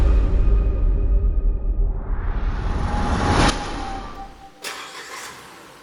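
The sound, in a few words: BAIC BJ40L petrol SUV engine during test drive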